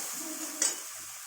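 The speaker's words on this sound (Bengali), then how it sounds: "দেখুন মশলাটা কষানো হচ্ছে" Spice paste with tomato sautéing in a pan gives a steady soft sizzle with one brief scrape of a spoon, close but quiet, no voices.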